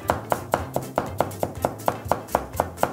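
A slicer julienning cucumber on a board in a steady rhythm, about a dozen crisp close-up cuts evenly spaced, with no talking.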